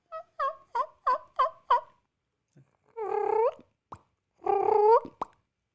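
A person imitates wild turkey calls, first a quick series of five short clucking putts, then two longer, wavering gobble-like yelps after a pause, all close up with no other talk.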